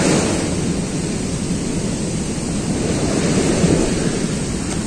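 Rough, heavy sea waves at a fishing spot make a loud, continuous broadband roar with gentle surges, without any voices.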